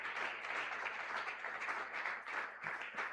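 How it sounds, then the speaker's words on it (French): A church congregation applauding loudly in steady, dense clapping that fills the whole stretch, with no talk on top. "Est-ce qu'on peut acclamer très fort?"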